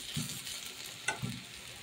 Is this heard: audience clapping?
no